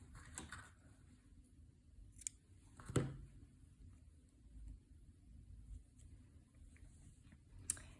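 Scissors snipping the yarn end off a finished crochet piece, a few faint, quiet clicks and one crisper cut in a still room.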